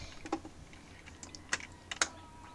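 Computer keyboard keys pressed a few at a time while editing video with hotkeys, giving sparse, sharp clicks with short gaps over a quiet room.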